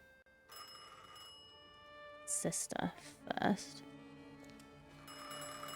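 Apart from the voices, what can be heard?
phone ringing in The Thaumaturge, video game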